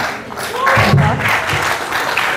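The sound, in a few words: audience applauding a group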